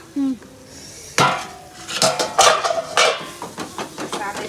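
A utensil mixes food in a pot for a paneer curry after salt is added, giving close, irregular metallic clinks and scrapes. The bursts are spaced through the clip, with a few sharper knocks against the pot.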